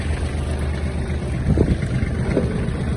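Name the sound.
Kubota GL-320 mini tractor engine being shut off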